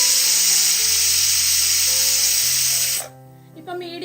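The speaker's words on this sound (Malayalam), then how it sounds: "ഇപ്പൊ മീഡിയം ഫ്ലെയിമിൽ 3 വിസിൽ ഇതാ കേട്ടിട്ടുണ്ട്." Pressure cooker on a medium flame releasing a loud, sustained hissing whistle of steam that stops abruptly after about three seconds, followed by a tonal voice over quieter background.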